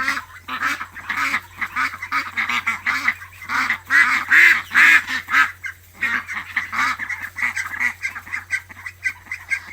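Several ducks quack and honk repeatedly on a rural smallholding where ducks and chickens are raised, loud and close, in busy overlapping bursts with no talk.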